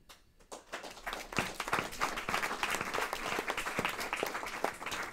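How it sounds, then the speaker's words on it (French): An audience at an award ceremony for a first-edition prize breaks into applause, starting softly and growing into steady, sustained clapping from many hands, moderately distant and free of speech. "Donc on applaudit encore quand même toute cette première édition des Lauriers 2024."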